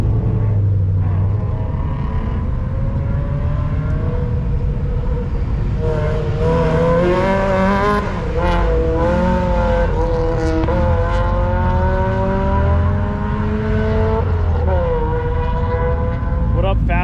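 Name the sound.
Honda S2000 race car driving at Evergreen Speedway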